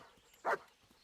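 A dog in the Kingdom Come: Deliverance video game gives one short, clear bark against quiet background ambience.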